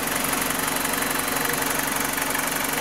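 A BMW E46's N46/N42 petrol engine idles steadily with a rough, clattering, diesel-like ticking over a constant low hum, close and unbroken throughout.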